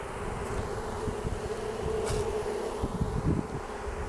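Newly installed package honeybees fan at the hive, producing a continuous close buzzing drone with a few louder individual bee passes.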